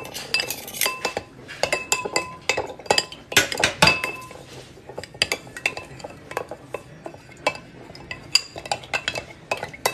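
A spoon stirring a mixture briskly in a glass of hot water, producing rapid, bright clinks against the glass in irregular bursts throughout, close and fairly loud with no talking.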